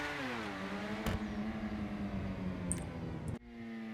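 The Grotti Italy GTO's naturally aspirated 6.5-liter V12 revs in a video game, a loud, close engine note whose pitch climbs and then settles into a sustained drone before cutting off abruptly and resuming more quietly.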